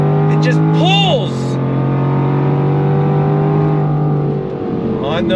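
A 2023 Jaguar F-Type R pulling hard in second gear on throttle, its engine note climbing in a loud rising sweep and then settling into a sustained, strong drone.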